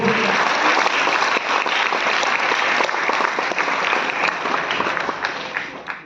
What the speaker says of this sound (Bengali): এনাদের জন্য একটু জোরে হাততালি চাইবো